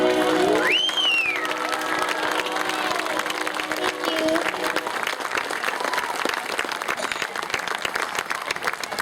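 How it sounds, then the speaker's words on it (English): An audience claps after a child sings a song, steady dense applause filling the room for several seconds, with a brief sung or spoken voice rising over it at the start. "Did you hear all those people clapping?"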